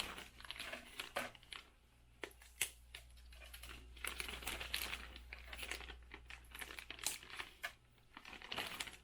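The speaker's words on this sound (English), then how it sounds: "put them in our bag." Dried cayenne peppers with their tops broken off being dropped into a crinkly bag, producing irregular bursts of crackling and rustling plastic, close and fairly quiet, with short pauses between handfuls.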